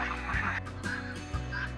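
Ducks on a homestead call in short honking quacks, several brief bursts close by and fairly faint, with no voices.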